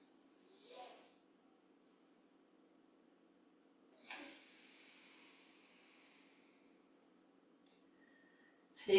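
Slow, deep breaths during a seated yoga stretch: three separate airy exhales, each a soft hiss, in a very quiet room, with the middle breath trailing off gently.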